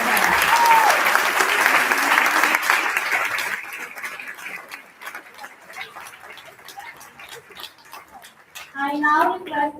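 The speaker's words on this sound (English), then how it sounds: "Let's have a huge round of applause for all of them." Audience applause at a school's annual awards day ceremony: dense clapping from a large crowd fills the opening seconds, then thins to scattered claps before a voice begins speaking near the end.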